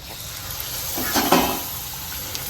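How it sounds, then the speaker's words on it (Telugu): Puris dropped into hot oil for a mango panakam meal sizzle and bubble steadily, with a brief louder burst of frying partway through, close and alone. "ఆయిల్ కూడా వేడి అయిపోయింది. పూరీలు వేసుకుందాం."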